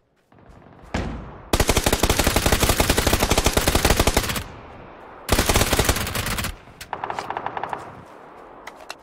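Video game gunfire in two loud, sustained automatic bursts separated by a short pause, then a lighter crackle of rapid shots tapering off at the end, with no talking.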